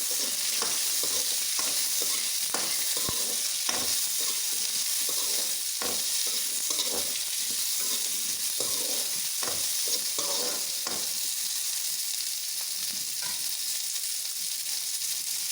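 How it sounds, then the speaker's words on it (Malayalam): Rambutan being sautéed in a pan with ginger and green chili for puliseri, a steady close sizzle of frying with repeated scrapes and clicks from stirring. "റംബൂട്ടാൻ നമുക്കൊന്ന് വഴറ്റാം"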